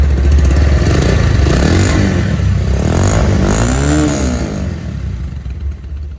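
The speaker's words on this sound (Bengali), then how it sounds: "গাড়িটা এখন দেখেন নিউট্রাল অবস্থায় আছে কত সুন্দর স্মুথ সাউন্ড গাড়িটা" A 2021 Bajaj Pulsar motorcycle engine idles in neutral loudly and steadily, with a faint wavering rev near the middle before settling and easing slightly toward the end.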